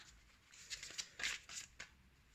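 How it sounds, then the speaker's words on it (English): A deck of tarot cards being shuffled close by, quiet papery riffles in a few short, uneven bursts. "Then I got back to shuffling"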